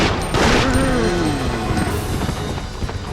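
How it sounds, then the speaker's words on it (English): Rapid gunfire in the video game Resident Evil Outbreak: a loud cluster of shots at the start, then a few booming reports and scattered impacts over a steady rumbling background, with no voices. "Shoot it, Kevin!"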